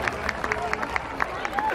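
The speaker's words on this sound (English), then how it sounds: "applause." Crowd applause at an outdoor Polish Day festival on a city square, with scattered claps and cheering rising under a busy public-address background, fairly steady and moderately loud.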